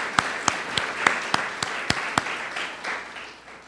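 Applause from an audience at a university campaign announcement, sparse individual claps at first building into a steady round of clapping that tapers off over a few seconds.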